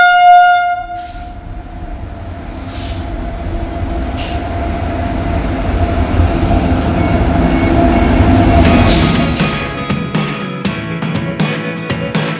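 A train at Ollur railway station sounds a sustained horn at the start, then rumbles loudly past with a rhythmic clatter of wheels over rail joints and rising noise near the end.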